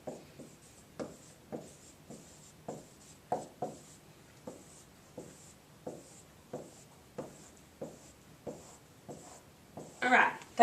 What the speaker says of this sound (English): I'm going to draw my big F and number from 1 to 10 at the top